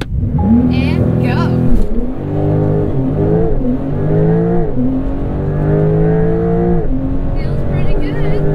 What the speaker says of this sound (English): left foot on brakes, full throttle, and go.